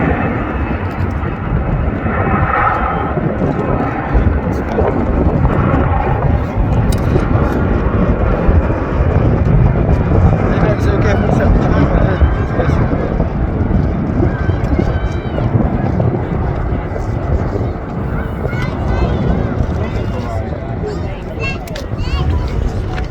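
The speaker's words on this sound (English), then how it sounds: "one of the smallest planes in Airbus's fleet, taking off in front of the 2nd largest" An Airbus jet airliner roars steadily and loudly on takeoff at Manchester Airport, a broad constant rumble of engines that holds throughout with wind buffeting the microphone.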